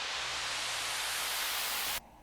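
A rise effect made from a reversed noise sample in music production. Bright, loud white-noise hiss holds steady, then cuts off abruptly near the end, leaving only faint low noise, with no voices.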